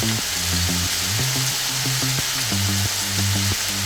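Steady, loud sizzling of beef tenderloin frying in a hot pan over high heat, with tonal music playing underneath throughout.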